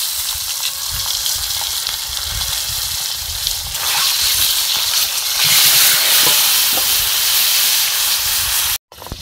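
Eggs dropped into hot oil for a home-cooked meal spitting with a loud, steady sizzle and hiss that swells midway, then cuts off abruptly near the end.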